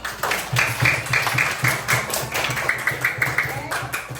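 A school class claps hands in steady, fairly dense applause for several seconds, moderately loud with a few voices mixed in.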